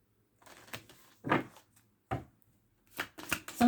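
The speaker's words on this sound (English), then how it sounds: "All right, one more shuffle." Several quick bursts of riffling tarot cards being shuffled, close by, each a short papery flutter separated by pauses, with no voices.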